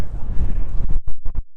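Gusty wind buffets the microphone on a winter walk outdoors in Brussels, a loud low rumble that swells and drops in uneven bursts, breaking into short choppy gusts near the end, with no talking over it.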